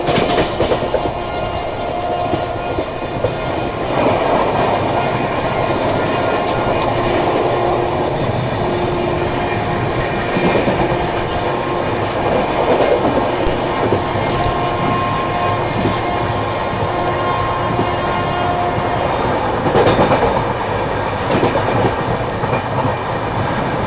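An Indian express train running on rails toward Hazrat Nizamuddin, heard steadily for the whole stretch with rolling wheel rumble, clickety-clack and faint squeals, close and loud throughout, with no talking.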